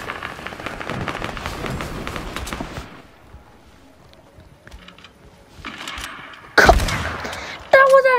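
Gunfire crackles in a shooting video game, first as a dense, continuous burst of rapid shots, then a quiet lull, then sharp, loud single blasts near the end, with no talking.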